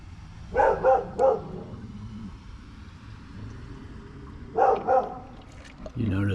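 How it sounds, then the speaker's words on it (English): A dog behind a fence in a driveway gives short bursts of barking, two clusters of quick barks at moderate distance over steady outdoor background hum. "You notice the dog might be barking,"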